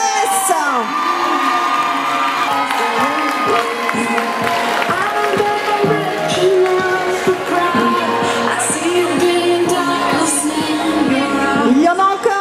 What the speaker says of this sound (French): On les applaudit encore, les Cheer Excess.